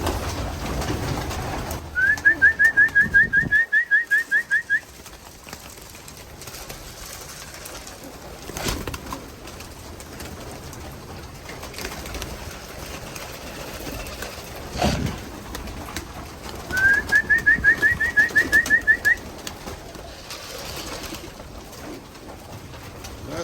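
Racing pigeons coo in a loft, two clear bursts of rhythmic cooing a couple of seconds long, separated by quieter background rustling and faint ambient noise.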